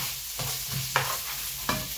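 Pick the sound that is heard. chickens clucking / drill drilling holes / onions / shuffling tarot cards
onions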